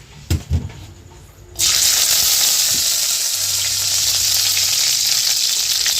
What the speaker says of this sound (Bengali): এগুলো একটু ভেজে নেওয়া হবে